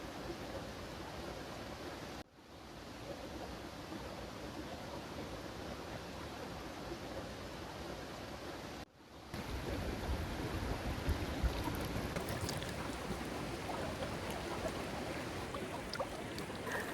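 The Donggia River in South Sulawesi, set among mountains, rushes in a dense, steady roar close by. The sound cuts out briefly twice and is otherwise continuous, with no voices.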